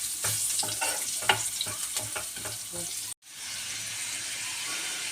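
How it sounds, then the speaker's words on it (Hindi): Chopped green chillies roast in hot oil in a pan for a masala daal fry, giving a steady close sizzle with spoon scrapes and taps for about three seconds, then a brief cut before the frying hiss resumes alone. "मिर्चें कटी हुई डाली है मैंने। अब इसको अच्छी तरीके से रोस्ट करेंगे।"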